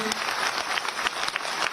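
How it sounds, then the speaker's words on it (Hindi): Large audience at Chandigarh University during a Union Defence Minister's campus event gives dense, continuous applause, a steady roar of many hands clapping at once. "जोरदार तालियों से"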